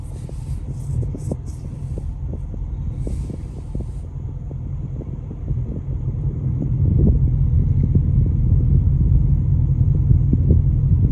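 A 2024 Ford Mustang GT with a Corsa Xtreme cat-back exhaust runs in normal mode, giving a steady low exhaust rumble that swells and grows louder partway through. Light wind noise sits over it and no one speaks.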